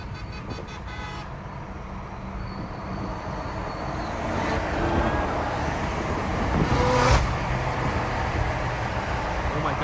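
A BMW M5 with a full exhaust and downpipes accelerates loudly, its roar building steadily over several seconds and peaking near the end, with no voices.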